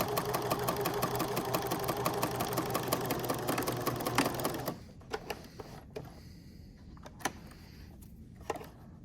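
A sewing machine stitches a flat-felled seam in a fast, even mechanical chatter for about five seconds, then stops, leaving quiet handling clicks and taps.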